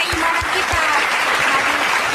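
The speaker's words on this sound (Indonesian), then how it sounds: "betul sekali, tepuk tangan" Sustained audience applause at a religious talk, a dense steady wash of clapping running throughout, fairly loud and close, with a few faint low thumps beneath.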